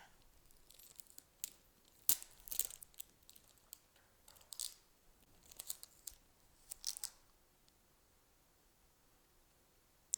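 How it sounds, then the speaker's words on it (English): Scissors snip through a piece of tape, a few sharp cuts and crinkles in quick bursts, close and fairly quiet, separated by pauses with no talking. "I'm going to cut a piece of tape that's just a little bit smaller"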